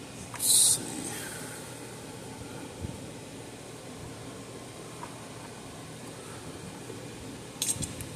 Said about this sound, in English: We'll just take our snips here and we'll just cut it in half.